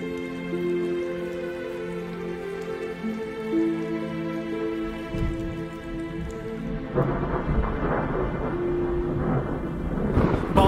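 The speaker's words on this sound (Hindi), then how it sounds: "बाप रे, क्या बारिश है!" Heavy rain pours in a thunderstorm near an old temple, with a low rumble of thunder running under a wash of rain. Sustained tonal music plays throughout, and the downpour grows louder and denser in the second half.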